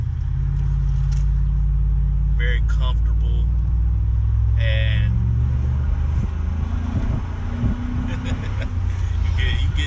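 A Chevy SSR truck with a 300-horsepower 5.3-liter LS V8 drives along, its engine a steady loud low rumble with a rise near the end, while someone talks over it throughout.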